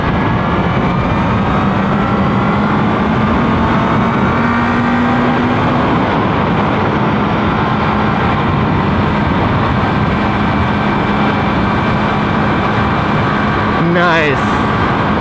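A 2018 Kawasaki Z900 motorcycle engine drones steadily under heavy wind rush while riding, holding a fairly constant pitch throughout, with a brief rising whine near the end.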